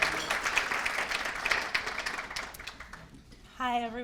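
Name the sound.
audience applause at a lecture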